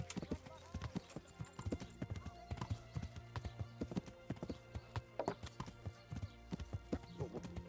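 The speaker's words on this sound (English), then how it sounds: "I'm just riding a horse, dude." A horse's hooves clip-clop in a steady, rhythmic trot in the video game Kingdom Come: Deliverance, crisp and close, with a low tonal hum underneath and occasional faint game sounds.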